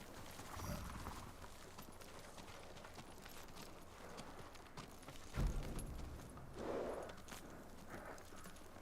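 Horse hooves clip-clop in the Ghost of Tsushima game, a faint, quick rhythmic patter running under steady game ambience, with a single heavier thud partway through.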